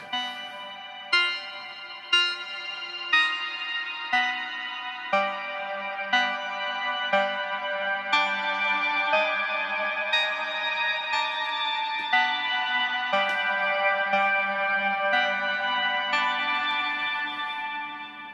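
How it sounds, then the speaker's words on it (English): A modular synthesizer plays a steady sequence of repeating notes, each onset blooming into long reverberant tails that pile up into a shimmering wash. No voices. "And we just add a little bit of reverb and it sounds fantastic."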